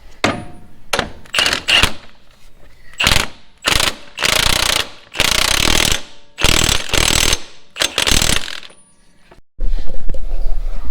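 A ratchet tightens the drive shaft back onto a Chevy Blazer, loud and close, with bursts of fast clicking strokes separated by short pauses. A brief clatter and low rumble follow near the end.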